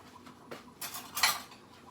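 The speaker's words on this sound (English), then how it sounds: "So then I'm going to stir it up." A spoon clinks against a cup or glass while stirring a homemade French vanilla drink, with two brief bright clatters standing out over a quiet background.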